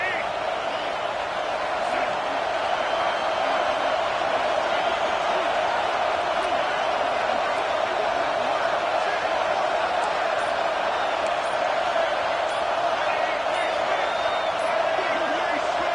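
A stadium crowd at a college football playoff game roars loudly and continuously, a dense wall of noise with scattered whoops and claps throughout.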